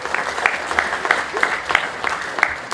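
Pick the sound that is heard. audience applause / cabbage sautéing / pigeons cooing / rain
audience applause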